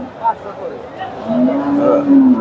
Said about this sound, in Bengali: এখানে একটা গাভী দেখেন এখানেও মোটামুটি এটাও সুন্দর গাভী দেশি জাতের